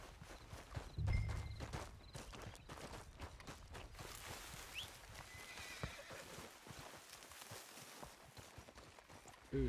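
Horse hooves clip-clop steadily in Red Dead Redemption 2, with a loud whinny near the start and another burst at the very end. Ambient game sounds continue underneath.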